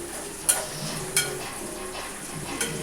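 Curry leaves crackling as they fry in a pan of hot oil while cooking a spicy dried-shrimp fry, a steady close sizzle broken by three sharp pops.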